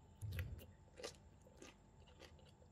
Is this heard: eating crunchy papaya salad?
yes